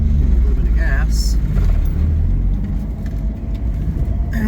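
A car fitted with a Ford 3-speed manual transmission drives down a road, its steady engine and road rumble running throughout under a person talking.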